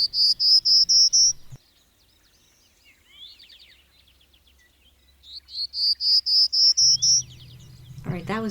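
High, thin bird song carrying out of dense young forest cover, two bursts of rapid repeated whistled notes separated by a quieter gap, fairly close and clear, with a low rumble entering at the end.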